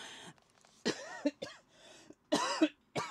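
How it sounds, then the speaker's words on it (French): Several short coughs in separate bursts, close and fairly loud, with brief quiet gaps between them and no talking. "Excusez-moi, je tousse."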